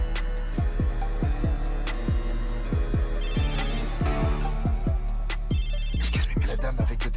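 A mobile phone rings among an audience, its electronic ringtone repeating in bright, rhythmic melodic bursts, loud and continuous throughout.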